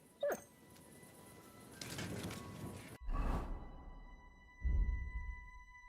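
A dog in the video game Kingdom Come Deliverance II gives a few short whimpers and yips close by, with a sharp swish partway through, and no talking.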